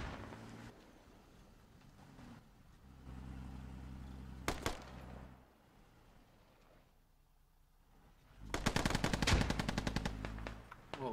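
Automatic gunfire crackles in a Squad video-game firefight during a one-life event, a short burst near 4.5 s and a heavy loud sustained volley from about 8.5 s, with low rumbling background between.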